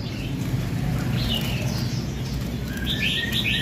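Several red-whiskered bulbuls in cages give scattered chirps and short calls over a steady low background rumble, with brighter bursts of song toward the end.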